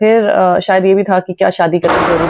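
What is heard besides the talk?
firecrackers bursting in the background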